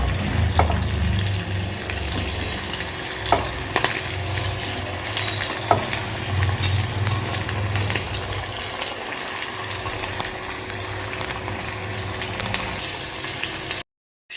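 Chicken kabab pieces fry in hot oil with a steady, close sizzle and scattered crackles and pops that continue for the full stretch, then cut off sharply near the end.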